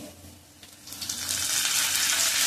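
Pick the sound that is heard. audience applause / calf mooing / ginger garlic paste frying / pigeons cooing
ginger garlic paste frying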